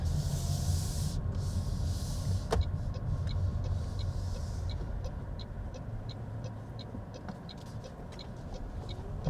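A car passes on a quiet country road near an Airbnb in Prince Edward County wine country, a soft broad hiss swelling and fading at a moderate distance with faint outdoor ambience and no talking.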